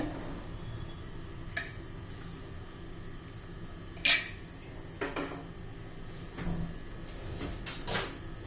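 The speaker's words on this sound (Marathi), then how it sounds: "छान असं तव्याला तेल चोळून घेऊ" Oil is rubbed onto a hot tawa, heard as faint metallic taps and brief scrapes from a utensil against the griddle, sparse and close in a quiet kitchen with no speech.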